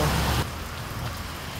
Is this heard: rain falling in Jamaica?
yes